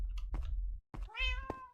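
Several cats meow in the video game Minecraft, a series of close, clear meows over a low background hum.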